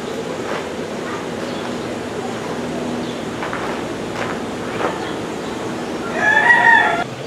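A rooster in a zoo pen crows once near the end, moderately loud over a steady outdoor hum and scattered faint rustles and knocks.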